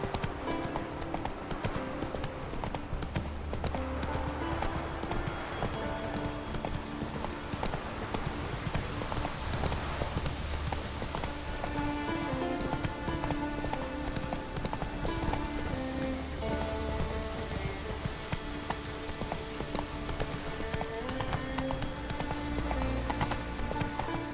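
A horse gallops in The Witcher 3 video game, a steady rapid clip-clop of hooves running on and on, mixed with game music and ambient sound.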